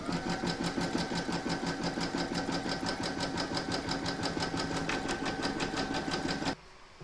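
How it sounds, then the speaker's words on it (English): An embroidery machine stitches a round in blue quilting thread on a hooped piece, a fast, even mechanical whirr with rhythmic needle pulses that runs steadily for several seconds, then cuts off abruptly. "pop your hoop into your machine and stitch round number 1"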